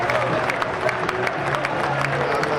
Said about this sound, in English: Marlis is getting a big round of applause